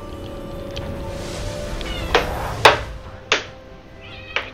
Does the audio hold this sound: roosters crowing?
no